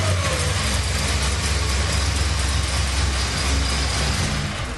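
A Corvette ZR1 with a supercharged engine idles in a steady, loud, continuous rumble with a low droning hum and a faint whine, with no voices heard.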